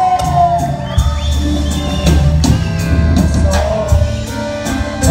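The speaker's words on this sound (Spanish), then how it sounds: "Y que se escuche el aplauso una vez más." Party guests at a quinceañera celebration cheer and whoop loudly, with scattered claps and shouts over a steady low musical backing.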